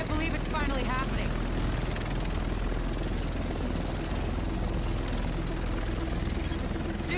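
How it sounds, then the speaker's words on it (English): An approaching helicopter in the video game Tom Clancy's The Division throbs loudly and continuously with heavy rotor chop and engine roar, close and dominant throughout, while voices are heard alongside it. "Here it comes. The rest of us should be in this chopper."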